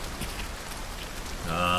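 Rain falling in the video game Hunt: Showdown, a dense steady hiss of drops on surfaces heard close, with a tonal sound rising over it near the end.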